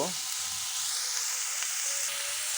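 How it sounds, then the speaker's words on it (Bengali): Cauliflower florets fry at medium heat in a pan with a steady, close sizzle throughout and faint stirring scrapes, no talking. "মিডিয়াম আছে কপিগুলো 3 মিনিট মতো কষে নিলে হবে। নেড়ে ছেড়ে মিডিয়াম আছে।"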